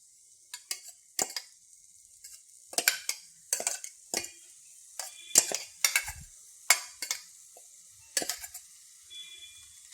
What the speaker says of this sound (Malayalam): ഇട്ടൊന്ന് ഇളക്കി കൊടുക്കാം നന്നായിട്ട് ഇളക്കി കൊടുക്കാം